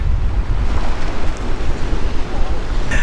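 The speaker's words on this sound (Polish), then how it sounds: "A tu już koniec falochronu i przed nami tylko morze." Baltic Sea waves at the end of a breakwater in Darłówko in January, heard as a rough, continuous roar of surf mixed with strong wind buffeting the microphone, loud and close.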